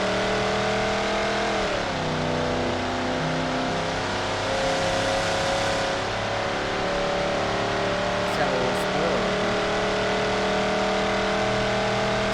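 Muscle car engine in BeamNG.drive revving loud and steady, a big V8-style drone with pitch sweeps as it shifts and climbs, continuous and close throughout with no talk.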